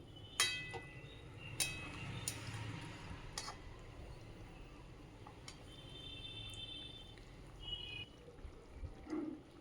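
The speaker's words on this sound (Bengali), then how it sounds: "এবার আমি পরিমাণ মতো দুধটা এখানে দিয়ে দিচ্ছি" Milk is poured into a pan while cooking a Bengali dudh shukto, a faint, steady trickling pour with a few sharp clinks of utensils near the start, heard quietly without talk.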